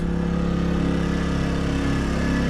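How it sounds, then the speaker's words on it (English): A small portable generator, powering sanding work while painting a Tartan 37 boat, drones steadily and loudly, its even, unbroken hum running nearby. "There's no power, so we gotta use a generator for sanding."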